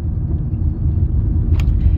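A yellow school bus coming along in traffic near a public school in Poinciana, Florida: steady low engine rumble of passing vehicles, loud and continuous, with no talking.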